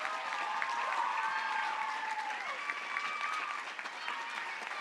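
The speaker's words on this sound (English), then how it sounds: "let's give her a round of applause" Audience at a junior high academic awards ceremony applauding a teacher, a steady wash of clapping held for several seconds with a few voices and cheers mixed in.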